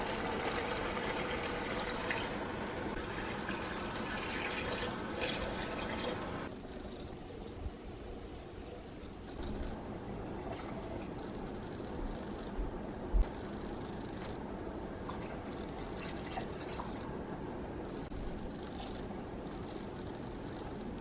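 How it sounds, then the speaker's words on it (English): Water pours steadily into a pot of Argentine locro stew, a continuous gushing splash close by that softens and becomes a quieter trickling fill after a few seconds. "So I'm going to add the water."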